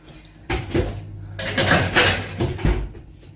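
A metal tray of Queen cakes being slid into a home oven, with clanking of the tray against oven racks, a door bump and scraping metallic rattles in several close bursts.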